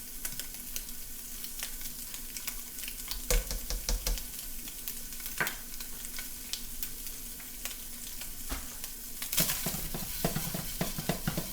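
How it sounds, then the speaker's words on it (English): Meatballs browning in a pan, giving a soft, steady sizzle and crackle, broken by occasional clicks and scrapes of stirring, with no talk. "My meatballs are getting a nice crust on them."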